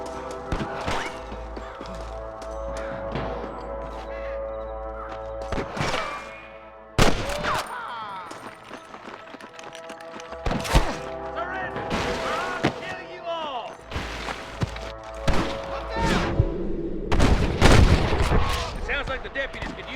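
Gunfire during a shootout in Red Dead Redemption: irregular loud gunshots and booming volleys cracking out in bursts, some close and sharp, amid game music and spoken dialogue.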